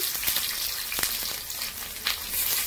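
Onions sizzle and crackle steadily in hot oil in a pan, with a few sharper spits and pops, close and fairly loud with no voices.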